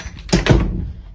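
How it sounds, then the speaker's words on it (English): An interior door shutting at night with a couple of soft thuds and a short rattle close by, no voices. "Shut the door."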